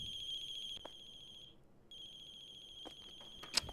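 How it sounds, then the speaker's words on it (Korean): A phone's electronic ringtone trills in the horror video game The Closing Shift, a steady high warbling tone that cuts out briefly and resumes, with a few faint knocks and a sharper clatter near the end. "제 전화기 소리가 삐리리리 소리가 저기서 들려요"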